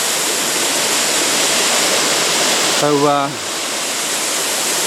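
Wild Dog Falls in the Otways pours in a steady, loud broadband rush of water, close by and continuous, with a brief spoken word near the end.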